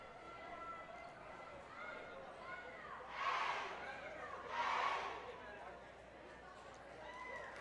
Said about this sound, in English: Canadian fans giving the cheer, keeping their team pumped up